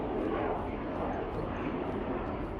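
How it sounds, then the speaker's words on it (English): Aircraft flying over near an RAF base in Australia, a broad, steady roar of engine noise that stays loud and continuous across the whole moment with no talk over it. "Sorry about the aircraft noise"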